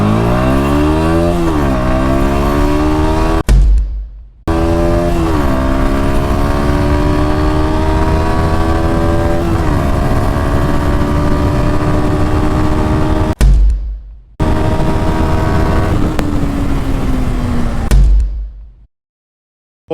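A Bajaj Pulsar NS 160 motorcycle accelerates hard in a drag race, its loud, close engine climbing in pitch through repeated gear shifts across three full-throttle runs separated by short cuts.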